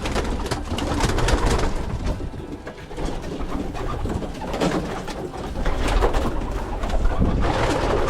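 Pigeons coo steadily inside a pigeon loft, several birds overlapping in soft, throaty rolling calls that continue throughout at close range, with no talking.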